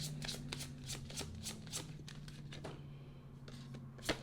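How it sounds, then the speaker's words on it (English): Tarot cards are turned over and shuffled with a run of quick papery flicks and snaps, close and fairly quiet, a steady rhythm of card strikes ending in one sharper slap, with no talking. "Here, you turn the cards over."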